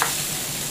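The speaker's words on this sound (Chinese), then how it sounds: "这个芽菜一定要炒香，炒干水，炒干水分它才香" Pickled mustard greens (ya cai) stir-frying in a wok with dry chillies and Sichuan peppercorns, a brief steady hiss and scrape of sizzling, close and alone.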